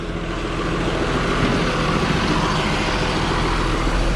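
Yard dog truck with a 5.9 Cummins 12-valve diesel moving a 53-foot trailer, a steady loud rumbling engine drone with a low, even diesel throb throughout.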